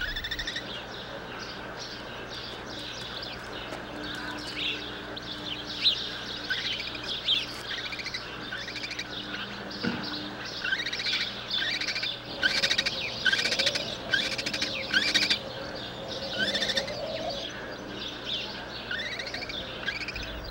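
Lesser kestrels call from a sheltered nest hole, a series of sharp chirping notes that cluster toward the middle and end, moderately close over a faint steady background hum.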